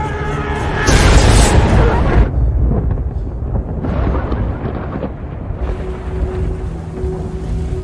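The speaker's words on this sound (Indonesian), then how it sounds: "berkat sambaran petir dan hujan lebat, 2 hyena itu pun kabur ketakutan" Cinematic thunder from a lightning strike with heavy rain in a survival film trailer: a loud broadband boom in the opening seconds, then rolling rumbles and a steady downpour wash throughout, with no talk.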